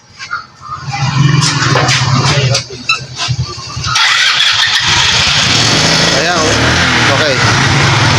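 Rusi motorcycle with a fault is kicked into life, sputtering and catching before dying out, its engine then idling loudly nearby as people talk over it in Filipino.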